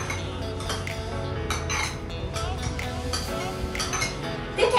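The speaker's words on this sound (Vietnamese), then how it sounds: "Khuấy đều lên." A utensil stirs sugar and yeast in a bowl, giving repeated light clinks and scrapes against the sides in an uneven rhythm, close and fairly quiet.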